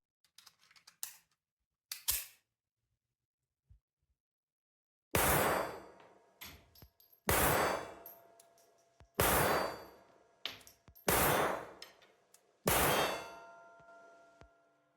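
A Czech vz.50 pistol firing PPU ammunition over a chronograph, five loud, sharp shots spaced about two seconds apart, preceded by quieter metallic clicks and handling noises.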